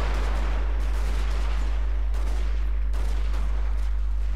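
Troops fire guns in a Total War: Shogun 2 Fall of the Samurai battle, a scattered volley of distant cracking shots over a constant low hum, a few louder reports standing out at irregular intervals.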